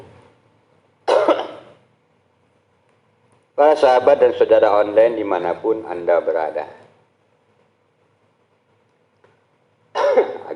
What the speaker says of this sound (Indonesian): agak batuk ya, musim hujan